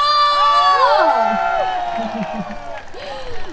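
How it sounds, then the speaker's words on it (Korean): Large crowd at the 2023 Chuncheon makguksu and dakgalbi festival concert in Korea cheering, whooping and shouting loudly after a live performance, with high screams rising over a roaring mass of voices that slowly fades. "함성!"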